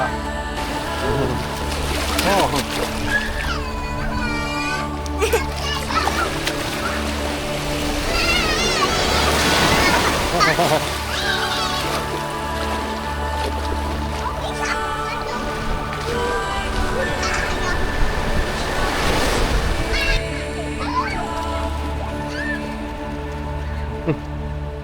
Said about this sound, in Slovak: Pozor, vlna.